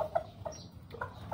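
Pet chickens clucking in short, soft bursts at close range in a backyard coop, with a few brief, higher calls scattered among them.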